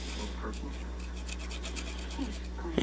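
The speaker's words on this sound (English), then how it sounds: "but to rub off the material best you can" Old foam surround being rubbed off the edge of a 1979 Sony Trinitron TV speaker by hand, making a steady, close scraping rasp with many quick repeated strokes.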